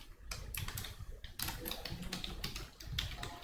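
Fingers tap steadily on a computer keyboard while code is written, a quiet, close, continuous patter of keystrokes with no voice.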